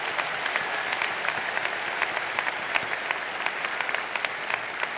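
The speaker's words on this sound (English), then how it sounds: "So let's give him another round of applause." Dense, steady audience applause fills a commencement ceremony hall, many hands clapping continuously at close range without a break.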